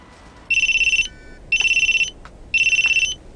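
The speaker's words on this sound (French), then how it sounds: "Monsieur Onizuka, il y a votre portable qui sonne." A mobile phone rings in three loud, close bursts, each a rapid warbling electronic trill separated by short pauses, with no one talking over it.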